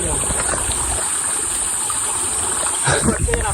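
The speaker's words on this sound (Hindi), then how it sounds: "मैं पानी में चल रहा हूँ, बहुत पानी भरा हुआ है" Continuous splashing and sloshing water fills the scene, with footsteps churning through flooded ground up close in Sanjay Gandhi National Park, Mumbai, and a louder splash near the end, under a steady high hiss.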